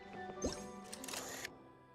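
A camera shutter snaps once in Genshin Impact, a short game click followed by a brighter burst of chime-like shimmer that fades after about a second, quiet and alone with no talk.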